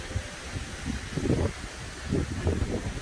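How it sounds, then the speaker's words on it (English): Strong wind buffets the microphone on a red-flag day at a Cancun beach, coming in low rumbling gusts that swell and fade over a steady breezy hiss. "and it is very windy today."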